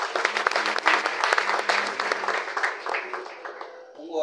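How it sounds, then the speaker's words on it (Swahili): A church congregation clapping in praise after a prayer: dense, loud group applause that gradually thins and fades out near the end. "Pigia Bwana Yesu makofi."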